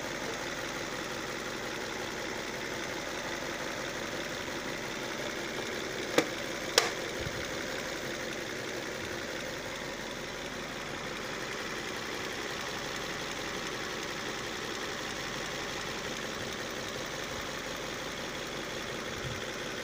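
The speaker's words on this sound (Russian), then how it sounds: "Ну, вибрирует двигатель," A car engine idles steadily after an ignition coil repair, giving a continuous even hum with a slight vibration, broken only by two faint clicks midway and no talk.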